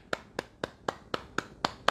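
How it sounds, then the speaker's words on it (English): Hands clap eight times in an even, steady rhythm, each clap crisp and fairly close, with nothing else heard. "Clap for you."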